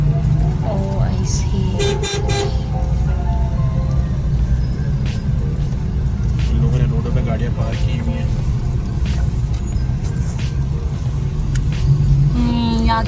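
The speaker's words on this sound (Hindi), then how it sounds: "ट्रैफिक होती है, इतनी रश होती है कि यहाँ से गाड़ी निकालना बहुत मुश्किल हो जाती है" Busy shopping-street traffic in Karachi rumbles steadily, with repeated car horns tooting near and far while people talk over the din.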